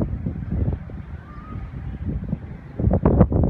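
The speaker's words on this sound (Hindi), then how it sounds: "बट हवा बहुत ज़्यादा ही तेज है" Strong wind gusting across a rooftop terrace in Karachi during light rain, a steady low roar with louder buffeting bursts toward the end, close to the microphone and with no talk.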